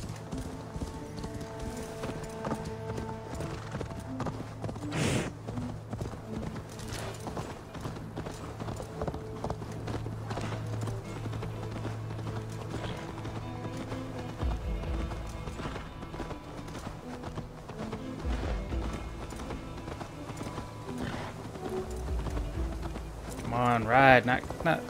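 Horse hooves clip-clop rhythmically at a steady gallop in Assassin's Creed Valhalla, continuous throughout amid game ambience, with someone talking over the riding.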